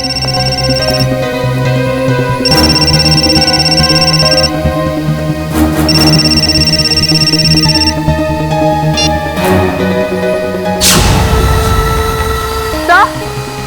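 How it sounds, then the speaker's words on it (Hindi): A telephone rings in a Hindi CID crime drama scene, its ringing tone sounding in repeated bursts of about two seconds under music and dramatic effects. "सिद्धार्थ का फोन"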